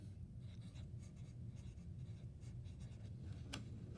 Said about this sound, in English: So you can write Shasta, Yurok, or Hoopa.